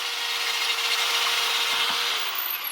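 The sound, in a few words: drill cleaning rust off Toyota Camry brake part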